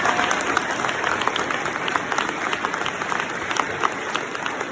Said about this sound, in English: let's give Logan Chapman a round of applause, please.